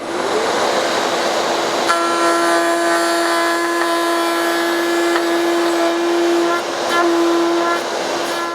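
A power tool whines with a steady, loud, sustained hum while notching out a piece of wooden planter board at close range, with no talk.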